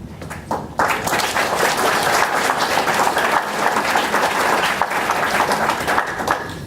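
An audience at a City Club candidate forum bursts into loud, full applause after a short quiet lead-in, the clapping thick and sustained for several seconds with a faint murmur of the crowd beneath it.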